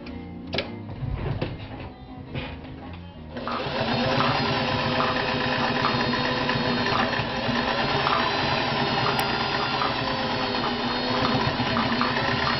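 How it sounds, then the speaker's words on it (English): Vintage Singer 500A sewing machine stitching across the thick seams of denim jeans: a few handling knocks at first, then a loud, continuous close motor whir with a fast rhythmic needle chatter. "Here's my daughter's jeans here. Just sew across all this seams and stuff."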